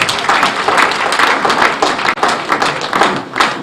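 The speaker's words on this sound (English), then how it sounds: "Please, another round of applause." Another round of loud, sustained clapping from a government career programme audience, a thick continuous patter of many hands with a few brief dips, close and without talk.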